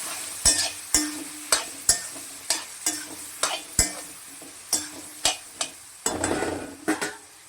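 Chopped tomatoes with salt cook in a pan for a prawn curry, sizzling while a spoon stirs and scrapes in sharp repeated strokes about once a second, close and clear.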